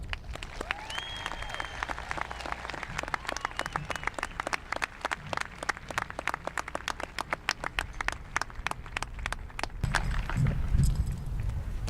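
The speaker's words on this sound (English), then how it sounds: "So let's all give these students a round of applause." Audience at a high school graduation ceremony applauds graduating students with scattered, distinct claps that build into a dense stretch. Near the end it thins into rustling and movement as the crowd settles.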